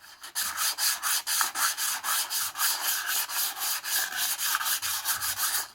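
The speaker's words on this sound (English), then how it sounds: "I just straight sandpaper, got about a medium grade, and I just sat for about 45 minutes sanding it down" Moose antler shed sanded by hand with medium-grade sandpaper, a steady rhythmic scratching of back-and-forth strokes, close and fairly loud, with no talking.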